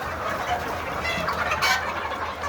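A large flock of about 1,500 chickens on a poultry farm keeps up a dense, continuous clucking chatter at close range.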